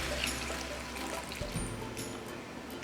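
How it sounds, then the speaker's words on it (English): Beef broth, two cups of it, pours into a pan of beef stroganoff, making a continuous close splashing, trickling rush for a few seconds. "at this stage, we're going to add in 2 cups of beef broth"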